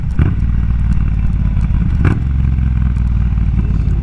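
Triumph motorcycle ridden in Florida, a loud steady engine drone with continuous rumble and wind, recorded close on the bike with two brief rattling thumps along the way.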